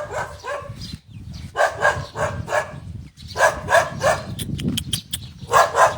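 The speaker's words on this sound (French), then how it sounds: "Il est attaché le chien." A tied-up dog in a village in Thailand's Isan region barks repeatedly in loud, close bursts with short pauses between volleys, over an outdoor background.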